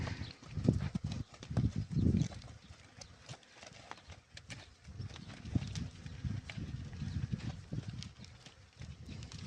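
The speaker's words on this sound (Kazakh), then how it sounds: "Жабы деген бие ғой, мұғалжар." A Kazakh Zhabe breed mare, newly foaled, shifts about with close, uneven hoof clops on firm ground, the knocks coming in loose clusters amid quiet outdoor background.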